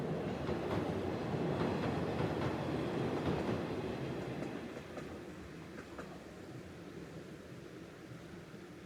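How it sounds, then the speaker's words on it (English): A train on Kyoto's Eizan Line rumbles past a house with rhythmic clattering on the rails, loud at first and gradually fading as it moves away. "this very nice shot of a train going past someone's house"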